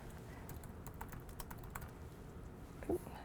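Quiet, close clatter of keys on a computer keyboard, a short burst of uneven taps followed by a single louder press near the end.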